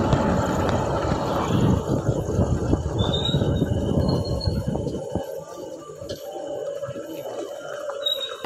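A train pulls into a station with a loud, heavy rumble and clatter of rail cars that eases after a few seconds, leaving thin metallic wheel squeals and a quieter hum, with faint voices in the background.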